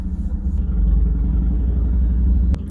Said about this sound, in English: God, that motorcycle's loud.